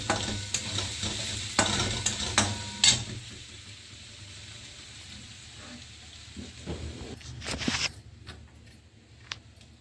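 Onion and green chillies frying in a pan for a Marathi eggplant bharit, a crackling sizzle with utensil scrapes and clatter early on, easing to quieter spits and taps.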